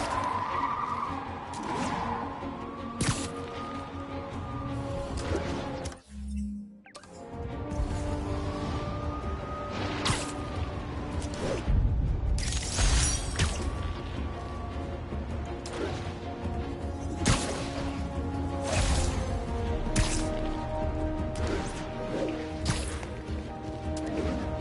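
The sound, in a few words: truck evading pursuit, skidding tires, from video game Marvel's Spider-Man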